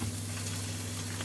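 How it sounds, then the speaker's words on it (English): Two pieces of sea bass sizzle in hot oil in a pan, a steady, close crackling hiss that runs without a break and with no voices. "I always like to get the oil just hot enough so you get that sizzle when it goes in."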